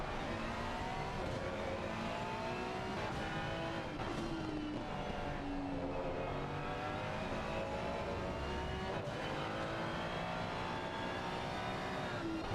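A racing car laps the Brands Hatch circuit during a Senior Racing Club championship, its engine droning steadily with rising and falling pitch through gear changes and corners, loud and continuous for the whole stretch.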